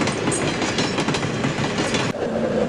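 A cartoon train arrives at a station, steady loud rumbling with rhythmic clickety-clack of wheels on rails and a brief break near the end, close and without talking.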